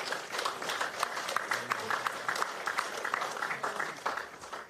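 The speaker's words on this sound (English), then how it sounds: "Let's give a round of applause for that beautiful cordial." Mourners at a funeral gathering give a warm round of applause, a moderate, slightly uneven patter of many hands clapping in a room, with some voices faintly mixed in.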